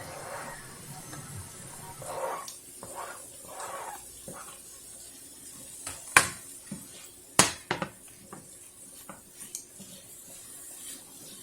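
Fresh greens tossed into a hot skillet for a vegetable pasta, a soft steady sizzle and hiss broken by a few sharp clanks and scrapes of a utensil stirring them in against the pan.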